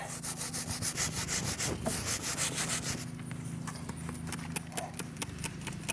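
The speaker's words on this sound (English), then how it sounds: "I'm going to just slowly start rotating the chain as I scrub it here." Stiff brush scrubbing a kerosene-soaked chain on a BMW S1000XR motorcycle, a steady rhythmic rasping of quick strokes, close and fairly loud, easing off to lighter, scattered scrapes partway through.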